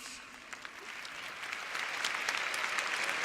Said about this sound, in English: Let's clap it up for these pioneers